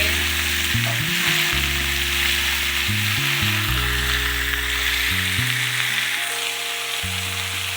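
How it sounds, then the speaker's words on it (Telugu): Vegetable pieces sizzle steadily in a pan, sautéed for Andhra-style sambar, a constant bright hiss lasting the whole stretch beneath louder background music. "ముక్కలు వేసుకొని మగ్గేసుకోవాలి."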